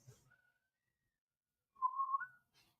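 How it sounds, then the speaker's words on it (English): A short whistled phrase, a steady clear tone near the end after a faint brief note earlier, alone without talk. "You can't whistle either?"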